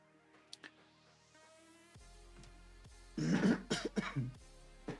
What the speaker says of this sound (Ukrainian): Ще раз вибачаю за кашель